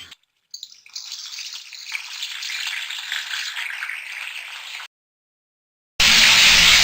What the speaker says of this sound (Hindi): इसके अंदर मैं चिकन डाल दूंगी जो मैंने मैरिनेट होने के लिए रखी थी।